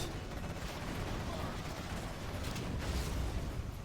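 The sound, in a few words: Scud launcher attack in Command & Conquer Generals Zero Hour video game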